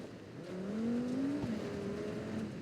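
Engine of a car in a video game, a steady tonal drone that rises in pitch then dips and levels off, loud and continuous for a couple of seconds with no one talking.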